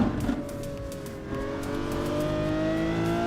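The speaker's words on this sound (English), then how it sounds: "Oh, the Lambo sounds so good." A Lamborghini Aventador SVJ in a driving video game revs its engine, the tone climbing smoothly and holding a strong, steady drone near and loud, with no voices over it.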